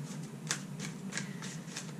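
A deck of cards is riffled several times in quick, rhythmic bursts, close and crisp against a quiet background.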